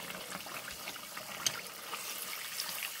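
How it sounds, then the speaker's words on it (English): Lard fat boils in a crockpot with a faint, steady bubbling hiss and scattered small pops and crackles, heard alone without talk. "boiling fat."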